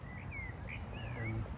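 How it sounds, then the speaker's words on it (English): A faint willow warbler song of thin, descending whistled phrases drifts from a distance over steady low background rumble. "I've heard nothing but the willow warbler here today"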